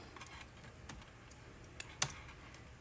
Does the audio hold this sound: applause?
no